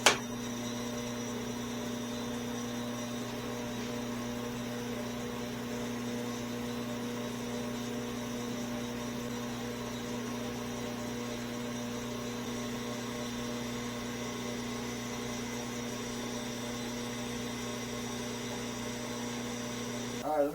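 An Atlas lathe on a dry run after carriage scraping and drilling of its oiling passages hums steadily and evenly for the whole stretch, a constant motor drone with no cutting.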